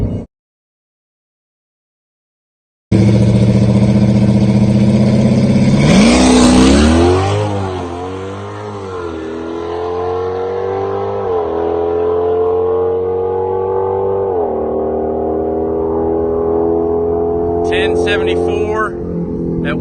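A cammed 392 Hellcat launches hard down a quarter-mile drag strip. Its engine climbs through loud, rising revs, shifting gears several times, and the roar stays close and strong for most of the run before easing off near the end.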